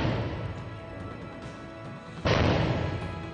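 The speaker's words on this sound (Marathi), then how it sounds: "त्याचबरोबर 21 तोफांची सलामीही दिली गेली" A heavy cannon boom from a 21-gun presidential salute in India erupts suddenly over a steady rumbling background, loud and reverberant, a single ceremonial blast from a distance.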